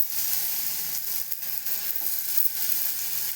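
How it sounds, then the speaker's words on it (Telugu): Ridge gourd pieces fry in hot oil in a pan, giving a loud, steady close sizzle that stays even throughout with no talking. "ఆయిల్లోని ఇప్పుడు మనము బీరకాయ ముక్కలు వేసుకోవాలండి."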